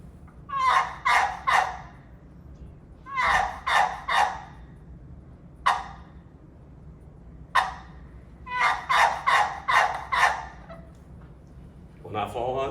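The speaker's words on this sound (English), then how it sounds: "Gobbler yelp." A turkey gobbler yelp played on a hunting call, delivered in several rapid bursts of three or four sharp notes with pauses between them, loud and close in a quiet room.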